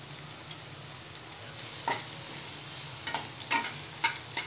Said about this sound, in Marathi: आपण कांदा घालून घेऊ।